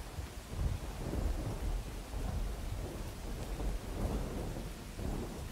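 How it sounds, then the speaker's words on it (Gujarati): Thunderstorm with rain over Mansa in Gandhinagar district, Gujarat: deep, rolling thunder rumbles repeatedly beneath a constant hiss of rainfall, heavy and sustained throughout. "ઉત્તર ગુજરાતના અનેક જિલ્લાઓમાં વરસાદ પડી રહ્યો છે"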